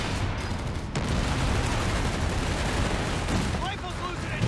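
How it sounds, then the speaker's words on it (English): Company of Heroes 3 battle gunfire, with dense, continuous shooting and artillery-like rumble filling the scene, busy and loud throughout. "He's shooting at infantry there"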